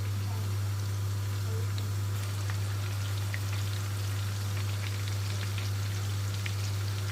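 Pakoras frying in hot oil, a steady, even crackle and sizzle that continues unbroken throughout with a constant low hum beneath.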